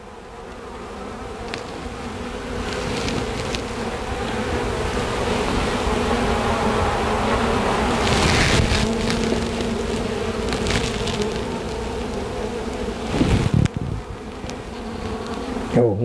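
Honey bees buzz steadily and loudly around an open hive, a dense continuous drone that swells slightly midway, with a few close passes near the end.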